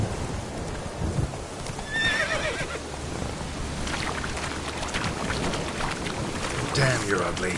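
Roach, a horse in The Witcher 3 game, neighs loudly, with a drawn-out whinny followed by steady galloping hoofbeats, all under a background hiss.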